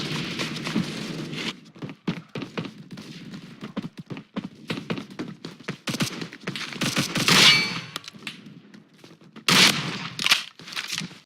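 Double-barrel shotgun blasts in a first-person video game, a rapid run of sharp booming shots with metallic clangs, firing repeatedly in bursts across the whole stretch with brief gaps between volleys.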